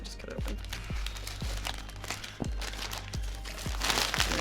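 A gift package is cut open, with crinkling wrapping and sharp crunchy rustles in a loose rhythm, close up, while a voice talks in the background.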